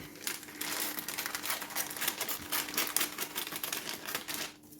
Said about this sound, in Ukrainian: Манікюрними ножицями відрізаємо.